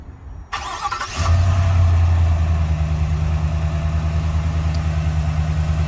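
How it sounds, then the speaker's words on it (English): A 2021 Chevrolet Suburban Z71 starts by remote start. After a click and a short cranking burst, the engine catches and settles into a loud, steady idle that continues close by, with no talking. "So in order to utilize remote start, you first have to lock the vehicle and then double click the circular button."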